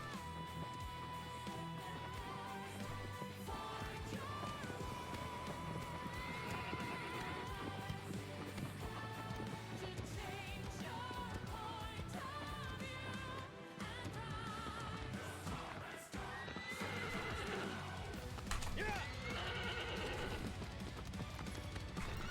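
A horse in the video game Shadow of the Colossus neighs and gallops with steady hoofbeats amid dense game sound and music throughout, with a brief dip partway through.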